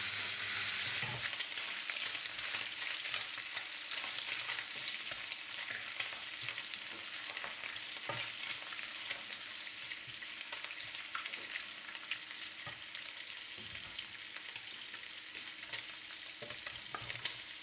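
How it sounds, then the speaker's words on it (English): Bacon sautéing in oil in a pan, a dense continuous hiss and crackle that stays even and close throughout, with occasional faint stirring knocks and no voices. "Saute the bacon until it's slightly golden"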